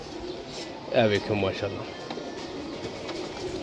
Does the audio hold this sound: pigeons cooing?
yes